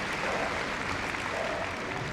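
A Crufts arena crowd applauding a rescue dog's agility run, a dense, even wash of clapping from a large audience heard at a distance.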